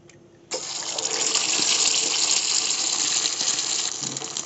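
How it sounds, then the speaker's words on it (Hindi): Eggs go into hot oil in a small tadka pan and burst into a loud, steady hiss and crackle of frying that keeps going without a break, with no voices. "तेल गरम हो चुका है, अब हम अंडे को ऐड करेंगे।"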